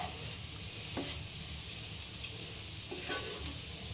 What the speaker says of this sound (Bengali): আমি জল দিয়ে দিয়ে আরেকবার একটু জল দেবো আর ভেজে নেবো